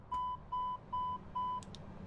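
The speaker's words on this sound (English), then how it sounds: "we can hit the master alarm" Master caution alarm in an Airbus A320neo cockpit from Microsoft Flight Simulator 2020, with four evenly spaced, loud electronic tones repeating about twice per second over a low cockpit hum, then two short clicks.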